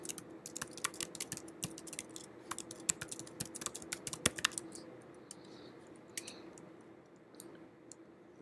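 Someone types a git commit command on a computer keyboard in quick irregular bursts of crisp close key clicks, thinning to sparse taps and near silence toward the end.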